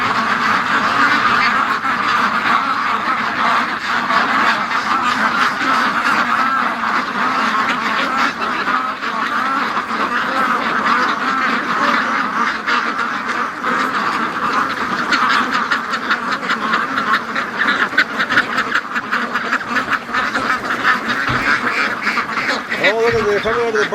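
A flock of free-range ducks quacks continuously, close and loud, a dense overlapping chorus lasting throughout, with a person's voice partly under it.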